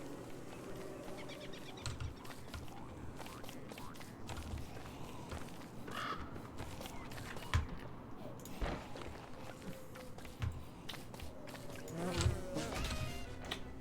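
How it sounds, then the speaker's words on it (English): A large swarm of bees buzzes steadily in the video game Don't Starve, a dense droning hum with scattered footsteps and game clicks. A player talks over it. "That's a lot of bees."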